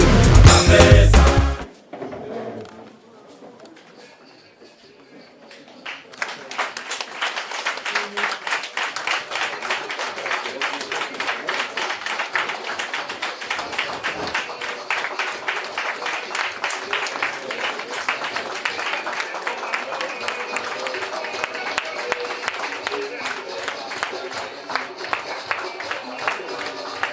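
A hall audience at a Front Populaire Ivoirien gathering in Lyon breaks into sustained applause after a loud voiced moment, steady dense clapping continuing for over twenty seconds.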